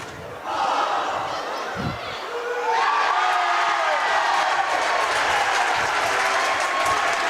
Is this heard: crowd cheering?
yes